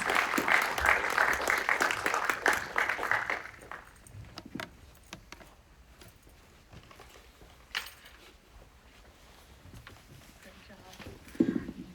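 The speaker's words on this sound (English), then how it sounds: "can we just get another round of applause, please, for all of these really, really great short films" Audience applause after a screening of short films at a film festival Q&A, loud dense clapping for about four seconds that stops abruptly, followed by quiet room noise with scattered small sounds.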